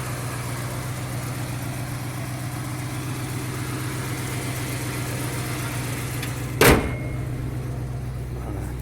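A completely original, unrestored 1971 Dodge Challenger convertible, barn find with its carburetor still factory-sealed, idles with a steady low rumble, broken near the end by a single sharp click.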